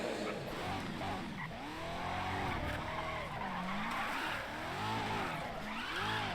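In the video game Race Driver GRID, engines rev and whine up and down in sweeping pitches as several racing cars roar past, with tires squealing and skidding, loud and continuous.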